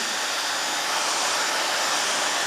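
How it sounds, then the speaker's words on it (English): Hair dryer fitted with a diffuser, blowing at full power while drying curly hair, a steady, loud, unbroken whoosh that holds level from start to finish with no voices. "you're gonna hold the dryer out away from your head"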